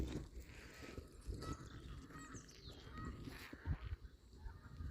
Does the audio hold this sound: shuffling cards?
no